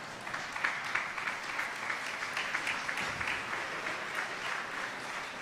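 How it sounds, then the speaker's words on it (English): Applause at a high school graduation ceremony, a crowd clapping steadily at moderate distance, soft and sustained with a light, even patter. "I appreciate the forced applause."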